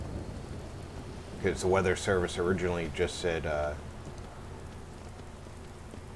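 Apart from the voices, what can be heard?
rain falling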